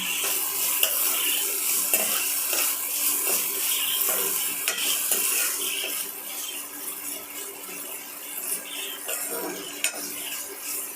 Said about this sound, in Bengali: পেঁয়াজটা আমি এতে দিয়ে দিলাম দিয়ে ভালো করে এটাকে ভেজে নেব